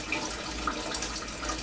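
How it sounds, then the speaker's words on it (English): Tap water runs steadily into a sink during handwashing, a continuous close hiss and splash that stays even throughout the short stretch. "use your paper towel to turn off the water"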